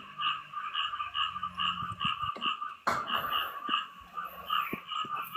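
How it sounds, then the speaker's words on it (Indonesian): A chorus of frogs croaks in rapid, rhythmic pulses, several overlapping voices at moderate distance, with a few clicks and knocks scattered among them. "Suara kodok."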